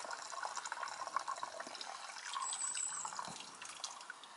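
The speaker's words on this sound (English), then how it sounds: "put a bit of pressure on the bag and it will soon come out." Water is squeezed from a hydration bladder into a camping cooking pot, a faint trickling and splashing stream close by, with no talking.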